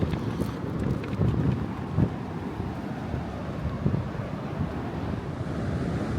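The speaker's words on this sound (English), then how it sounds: "the waves are coming in frequently" Surf rolling onto an Atlantic City beach the day after a hurricane, a steady broadband wash of breaking waves mixed with gusty wind buffeting the microphone, no voices.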